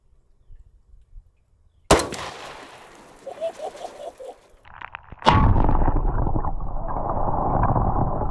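A rifle fired into water at an outdoor range, one sharp loud crack followed by splashing and a second heavy impact, then a sustained rushing roar of water spray.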